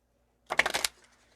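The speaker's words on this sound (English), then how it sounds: "Well, it doesn't want to shuffle all of a sudden." A deck of Haunted Halloween oracle cards is shuffled once, a short, close riffle of rapid clicking card flutters lasting under half a second, with no talking.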